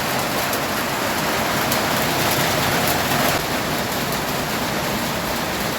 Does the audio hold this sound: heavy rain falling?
yes